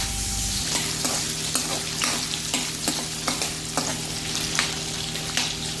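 Ginger drops into a hot pan and sizzles steadily while a spatula stirs it, scraping and clicking against the metal in irregular strokes every half second or so, close up with no speech, for a Bicolano tuna paksiw.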